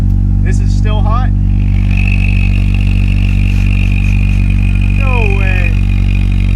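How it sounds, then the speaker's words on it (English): A turbocharged car's exhaust gives a loud, close, steady low rumble with a thin high whistle running through it, while excited voices speak over the engine. "But ooh, hear that exhaust go right there? That sounds good."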